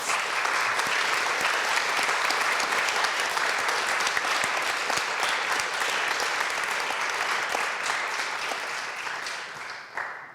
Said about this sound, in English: if you could please help me in giving a round of applause